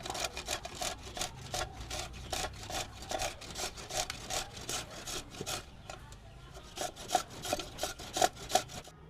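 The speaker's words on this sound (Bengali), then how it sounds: "এবারে এই গ্রেটার দিয়ে গ্রেট করে নেব এই বড় পাশটা দিয়েই আমি গ্রেট করে নেব" Green papaya being grated on the large side of a box grater gives a rapid series of rough rasping strokes in an irregular rhythm, close and fairly quiet, with no voices.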